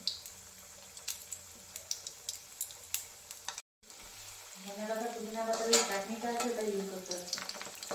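Fish frying in a pan on a lowered gas flame, a steady close sizzle with small crackles and pops, then a stronger, louder sizzle after a brief gap.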